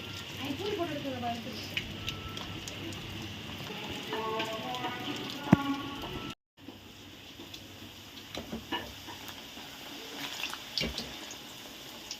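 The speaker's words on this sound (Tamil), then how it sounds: "அடமழை மாதிரி பெய்யுதுங்க இன்றைக்கி எங்கள் ஊரில்." Heavy rain pours outside in a village, a dense steady hiss with scattered drips and splashes, continuing at an even level for the whole stretch with a brief dropout midway.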